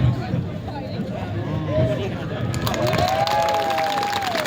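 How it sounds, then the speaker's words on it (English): An audience breaks into applause and cheering that swells midway, dense clapping and crowd noise mixed with a speaker's voice on stage. "Much bigger applause for her."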